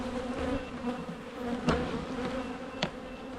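Many honey bees hum around an open hive in a continuous close swarm drone, with occasional brief clicks and passing buzzes standing out, and no voices.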